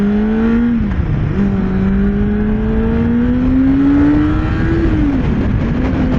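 A Kawasaki Ninja ZX-6R sport motorcycle in sport mode accelerating hard, its loud engine whine rising in pitch through the gears with brief dips at shifts, steady and close with constant rushing wind noise.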